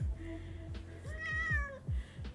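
An indoor cat, hyper and restless, lets out a single drawn-out meow up close. It rises and falls over a steady low background hum.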